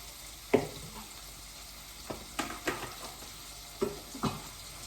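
Garlic and onion fry in a pan with a soft steady sizzle, broken by several sharp clicks and scrapes of stirring at irregular intervals.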